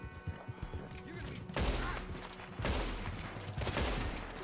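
Gunfire in the Red Dead Redemption 2 Online western game: loud, close shots crack in three heavy bursts, each trailing into echoing rumble, over quieter clatter beforehand.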